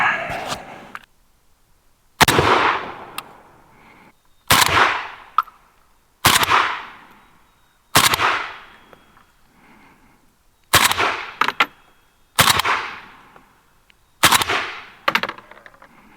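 Eight loud, ringing AK rifle shots fired through a .45-caliber front cap muzzle device. The shots come singly at intervals of about two seconds, each followed by a brief echoing decay, with no talk.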